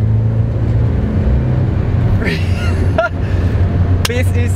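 A Porsche 944 with a five-speed manual pulls hard in third gear, its engine note rising steadily close up, with a couple of brief higher-pitched sweeps near the end.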